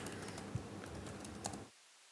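Quick, close, moderately quiet typing on a computer keyboard, a steady patter of keystrokes for about a second and a half that then stops dead into silence.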